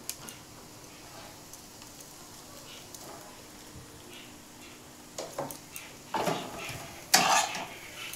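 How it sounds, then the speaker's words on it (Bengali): Maggi noodles are stirred with fried onion and carrot in a pan, quiet at first, then scraping and metallic clinks of a utensil against the pan grow louder toward the end over a low background hiss. "ম্যাগিটা দিয়ে আমি ভালো করে নেড়ে নেব।"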